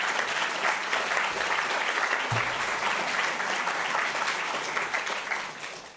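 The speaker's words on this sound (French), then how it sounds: "Merci à nos intervenants que nous pouvons applaudir encore une fois." An audience at a public ethics lecture applauds the speakers, dense sustained clapping filling the room at steady volume before tapering off at the end.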